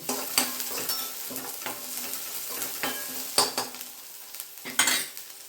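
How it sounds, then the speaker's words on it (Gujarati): A medium onion, finely chopped, sautés in a pan for a potato and pea samosa filling, with steady frying sizzle broken by repeated scraping stir strokes and a few sharper utensil clinks, close and alone. "હવે એમાં 1 મીડિયમ સાઈઝની ડુંગળી છે, ઝીણી ઝીણી કાપેલી, તે એડ કરીને એને થોડી વાર સાંતળી લઈએ"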